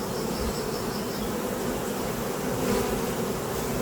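Honey bees buzz densely in and around a hive as a colony is moved into a new box, a continuous loud, close hum with no voices.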